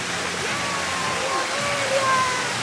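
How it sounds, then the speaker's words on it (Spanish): A small water jet at a water park splashes in a steady, dense rush of spray heard close up, with a voice briefly over it. "El chorrito."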